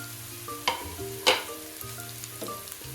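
Carrot, green chilli, capsicum and cabbage sizzle and fry in a pan while a utensil stirs them, with a few sharper spatula scrapes standing out over a steady hiss.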